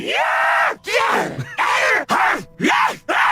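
Call of Duty Zombies zombie groans and screeches: a run of loud, harsh, rasping vocal bursts separated by short gaps, with rising and falling snarls, close and dry with nothing else underneath.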